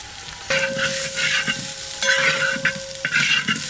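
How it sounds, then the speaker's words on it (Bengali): Fried spice mix tipped into a hot pan for mutton kosha with ginger and garlic paste, sizzling steadily while a spoon scrapes and stirs in a few distinct bursts, close and clear with no talking. "এবার ভাজা মশলাটা দিয়ে দেবো,"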